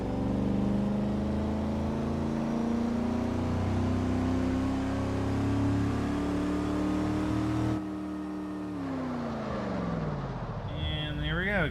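Engine of a car driven in Test Drive Unlimited 2 on PS3, a steady droning hum at cruising speed that drops in pitch and then revs again near the end.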